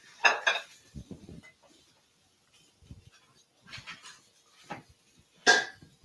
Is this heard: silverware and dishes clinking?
yes